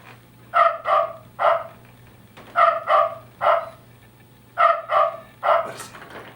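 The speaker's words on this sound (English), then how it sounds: "See the little Yorkie pop out up here and barks at the top of the hour?" A Yorkie-themed cuckoo clock plays recorded dog barks at the top of the hour, three bursts of three sharp yaps each, evenly spaced, clear and close over a faint steady hum.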